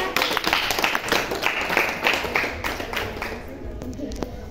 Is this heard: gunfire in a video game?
no